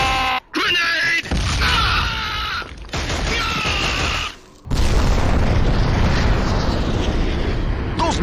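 Booming explosions and heavy rumble fill a Killzone battle scene after a grenade, loud and dense, broken by brief drops to near silence, with a voice shouting briefly over the din.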